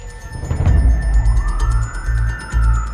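Ambulance siren wailing on the move, a rising and falling electronic tone sustained over deep engine and road rumble, fairly loud and close, with no one speaking.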